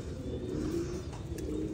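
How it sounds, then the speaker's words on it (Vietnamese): American pigeons on a Vietnamese farm give low, soft cooing calls close by, a gentle steady murmur over faint background noise. "Ở trại mình thì chim bồ câu con Mỹ nhiều lắm"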